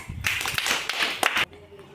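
A short burst of hand clapping rewards a child's correct answer in a lesson, a quick flurry of claps lasting about a second, near and fairly loud, beside speech.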